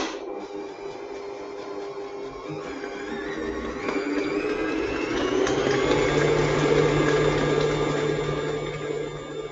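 Electric mixer whirring through Victoria sponge cake batter with added egg and dry ingredients, a close continuous whine whose pitch climbs and steadies as it speeds up, then eases slightly, no talk.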